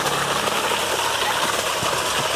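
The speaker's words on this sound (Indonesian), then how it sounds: "Suara mesin sangat halus, ramah lingkungan ya." A modified Jet 200 electric water pump with a cast pump housing runs steadily, giving a loud, continuous mechanical whir and buzz with a slight rattling vibration throughout.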